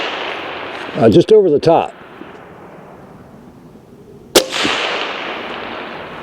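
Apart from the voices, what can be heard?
suppressed 6mm Creedmoor AR-10 rifle shots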